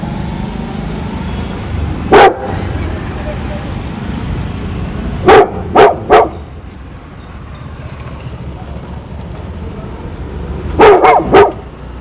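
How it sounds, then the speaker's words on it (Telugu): A dog barks at another dog in short bursts, a single bark, then a quick run of three, then another cluster near the end, loud and close over a steady outdoor background rumble. "ఆడేనో కుక్క ఉంటే దాని చూసి వీడికి వెళ్ళి అరుస్తున్నాడు"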